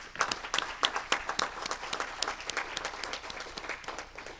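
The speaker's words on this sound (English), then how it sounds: "let's give them a round of applause" A modest round of applause at a council meeting, scattered hand claps from a small group, fairly close and quick, fading slightly toward the end.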